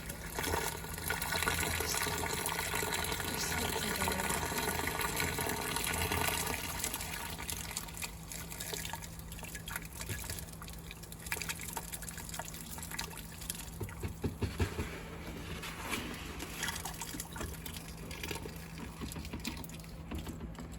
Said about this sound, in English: you can pour it directly in the brine tank